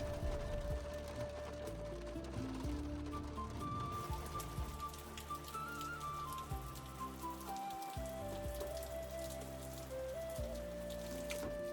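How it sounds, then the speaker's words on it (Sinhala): Hail or heavy icy rain falls steadily at a mountain lake along the Transfăgărășan Road in Romania, a dense continuous patter on surfaces close by, with a faint whistle-like tone running through it and no talking. "ඒකත් ඉතින් නිකම් වැස්සක් නන් නෙමෙයි අයිස් කැට වැස්සක්."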